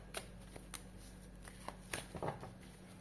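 Soft papery riffles and light card slaps from shuffled tarot cards come in a few quick bursts over a low steady hum, fairly quiet and close by.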